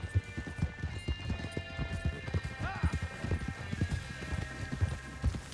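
Shire horse galloping in Red Dead Redemption 2, rhythmic heavy hoofbeats pounding steadily and close, with a brief whinny partway through and a faint tonal game score underneath.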